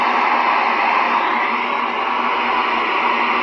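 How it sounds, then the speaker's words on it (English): Steady broadband hiss from an FM receiver with its squelch fully open and no input signal, loud and continuous with no quieting or variation throughout. "And here is your wide open squelch. Just white noise with no quieting whatsoever."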